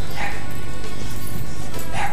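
Dogs bark repeatedly close by, sharp loud yaps at the start and end of a short, noisy stretch, with yips and whimpers between them.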